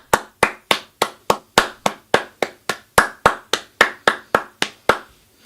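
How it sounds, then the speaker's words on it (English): Sharp single hand claps ring out about twenty times in a steady, even rhythm, loud and close, each with a short decay, with no talk. "Big clap."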